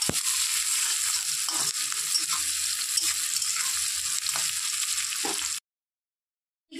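Chopped onion sizzles steadily in a hot pan for a pointed gourd and prawn curry, a loud continuous hiss broken by repeated stirring scrapes before cutting to silence near the end.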